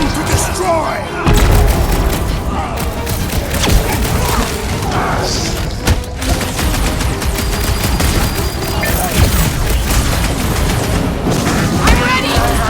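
Gunfire from the video game Marvel's Guardians of the Galaxy rattles in dense, continuous volleys with booms and explosions, loud and close, while characters shout over the combat.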